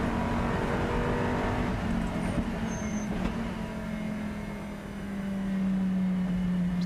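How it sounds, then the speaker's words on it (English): A Lamborghini GT race car on the circuit at Paul Ricard, France, during an endurance race, its engine holding a loud, steady tone that dips briefly and then swells again as it accelerates, heard alone with no talk. "Still makes a great noise, that car"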